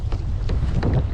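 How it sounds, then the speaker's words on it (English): Gusty wind buffeting a small boat at the mouth of a marsh, low rumbling microphone wind with brief pulses of choppy water, fairly close and continuous. "It is fairly windy and wavy right here"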